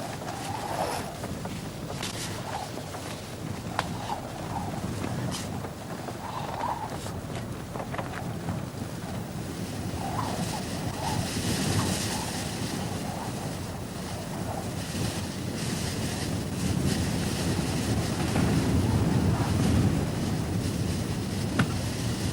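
Strong Antarctic wind roars and buffets the microphone continuously, with rushing gusts and a low rumble throughout.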